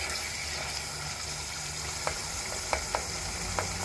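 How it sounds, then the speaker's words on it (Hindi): Qeema sizzles steadily as it is sautéed with beans in a pan for a desi-style dish, a continuous frying hiss with a few faint clicks of stirring, with no talking. "इसको थोड़ा सा सौटे करते हैं कि अच्छे से जो है ना ये इसके जो ये थोड़ा साबुत है वो ठीक से हो जाए"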